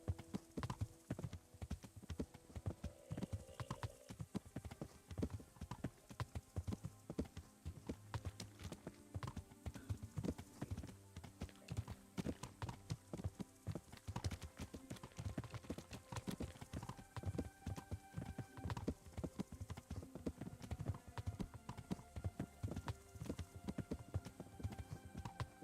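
Horse hooves clip-clop in a steady, continuous rhythm while a rider travels in the video game Kingdom Come: Deliverance, with faint background game ambience and no speech.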